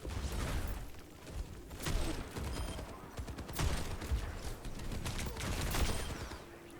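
Widowmaker sniper shots in the Overwatch video game, heard as several sharp cracks scattered among dense game sounds of gunfire and effects, fairly quiet in the mix.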